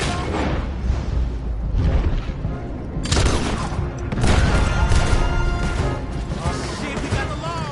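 Heavy gunfire in a Red Dead Redemption 2 shootout at a blocked road, with crashes and booms piling up in dense, loud volleys against a steady rumble.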